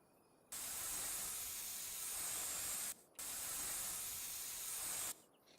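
Hissing spray from a pressure washer cleaning down farm equipment in Farming Simulator 25, two long steady bursts with a brief gap between them, loud and close with no talking.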